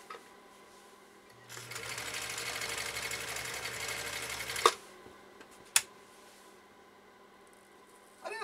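Swedish sewing machine stitching at close range: a steady whirring motor hum with rapid needle clatter for about three seconds, then a stop, followed by a couple of sharp mechanical clicks.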